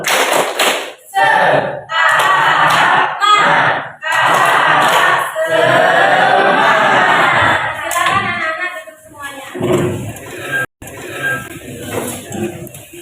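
A school classroom performing a rhythmic spirit clap, with students clapping in patterned bursts while chanting loudly together. The sound is close and energetic, and voices call out throughout.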